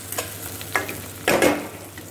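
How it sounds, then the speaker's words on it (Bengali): Onions fry in a hot pan with the flame turned high, giving a few soft scraping stir sounds and then a louder sizzling burst partway through, with no voices. "পেঁয়াজটা আমার একদম ভাজা ভাজা হয়ে এসছে"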